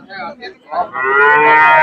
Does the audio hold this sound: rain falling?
no